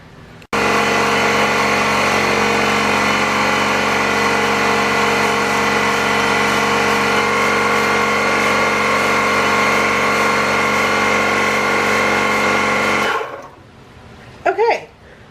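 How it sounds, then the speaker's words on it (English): An airbrush air compressor runs in a steady, loud, even hum with a strong tonal drone for about twelve seconds, then cuts off abruptly and leaves near quiet with a faint voice. "I wasn't expecting my compressor to turn off so soon"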